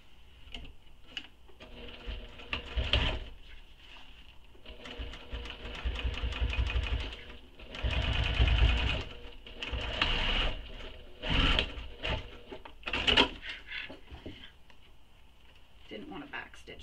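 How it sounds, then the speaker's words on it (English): A sewing machine top stitches the loop of a crossbody bag, running in repeated short bursts of rapid stitching with pauses between, while a person talks over and between the runs. "I'm going to top stitch this."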